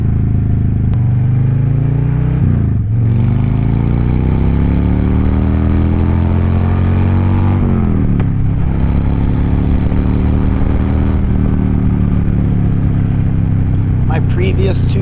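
Motorcycle ridden on the road during Power Vision 4 autotuning, its engine droning and rising and falling in pitch through gear changes and revs, loud and close for the whole stretch.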